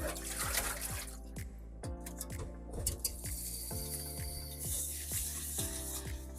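Cold running tap water pours and sloshes over rice being rinsed, with occasional splashes over a steady stream from a faucet, no talking.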